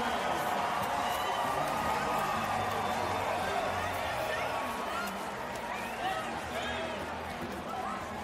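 Arena crowd at a women's international volleyball match, Brazil versus USA, cheering and roaring in a dense, sustained wash of voices, loud and continuous throughout with scattered whoops rising above the babble.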